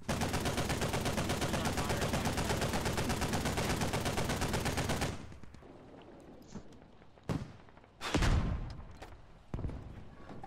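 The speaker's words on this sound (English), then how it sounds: "Yeah, tank just shot." Rapid automatic gunfire roars in the Squad video game for about five seconds, loud and continuous, then cuts out, leaving a few sharp distant shots and bangs over quieter background.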